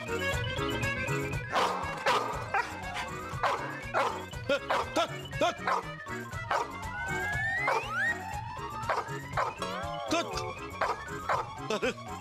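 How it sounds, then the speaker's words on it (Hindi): A dog barking and yipping aggressively in repeated sharp bursts, close and loud, with whimpers between, while people shout and talk over it amid background music in a comedy scene. "ये कुत्ता पागल है, पैजामा पहनने वाले का पैजामा फाड़ देता है"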